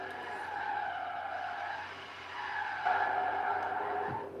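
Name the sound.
car skidding on e-brake in video game Forza Horizon 3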